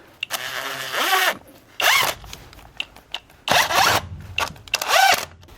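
A power drill drives screws into a PVC window frame, giving four loud, buzzing bursts of about half a second each, separated by short pauses and a few quick clicks and taps.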